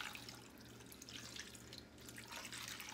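Gravy mix poured over beef stew in a crockpot, a soft steady liquid trickle and splash that runs for a few seconds with a faint low hum behind it and no talk.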